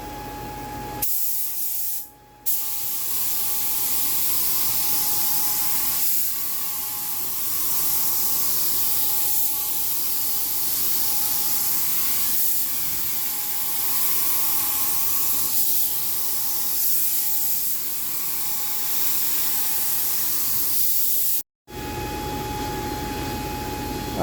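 A spray gun lays 300N Velocity Yellow base coat onto a Corvette hood, giving a steady close hiss of atomized paint that runs almost unbroken, with two brief gaps where the trigger is released.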